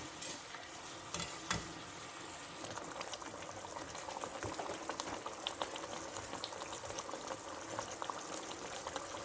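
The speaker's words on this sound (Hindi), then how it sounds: "इसको भून लेंगे अच्छे से" Potato and egg curry masala frying and bubbling in a pan, a steady dense sizzle throughout with occasional louder crackles and stirring clatter, close and continuous with no talk.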